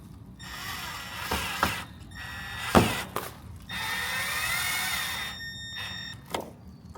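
A power tool drives a bolt into a rear fin diffuser on a C8 Corvette Z06, giving short whirring bursts followed by a longer sustained mechanical whir, close and fairly loud, with clicks and ratcheting in between.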